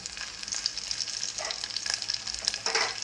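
Mustard seeds, garlic and cumin sizzle in hot oil, a steady close crackling hiss with small pops, no voices.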